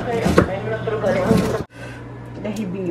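Onion being chopped on a board in a home kitchen while Pinoy spaghetti is cooked: a close tapping knife rhythm under a person talking, pausing briefly before lighter taps resume.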